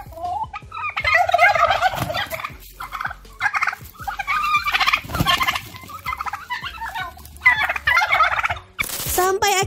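Four turkeys gobbling loudly in repeated rapid bursts while a chicken fights them, the calls close and overlapping with scuffling and flapping between them.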